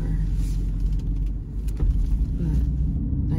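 A car being driven out of a home garage, a low steady engine rumble close by with slight variations as it moves, no talking.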